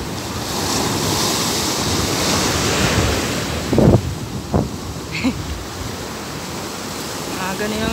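Continuous roar of ocean surf at a Zambales surfing beach, waves crashing and washing in, heavy wind buffeting the microphone, and a few brief bumps partway through.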